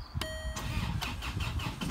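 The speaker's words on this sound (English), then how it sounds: "start the car." A Land Rover Freelander 2 starts up: a brief electronic chime, then the starter cranks and the engine catches into a rough, pulsing idle, heard close and fairly loud.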